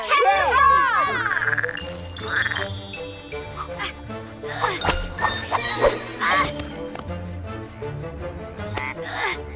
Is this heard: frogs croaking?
yes